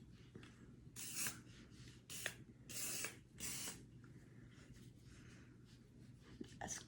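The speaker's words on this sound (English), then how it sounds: "And I'm just gonna spray it down." Hairspray from an aerosol can misted over freshly wand-curled hair in several separate hissing bursts, close and fairly loud against a quiet room.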